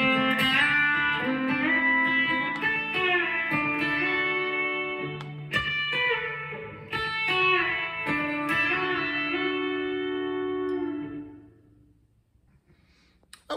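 A B-bender electric guitar plays a six-pack country lick in D, bending notes smoothly over about eleven seconds before fading out, with no voices.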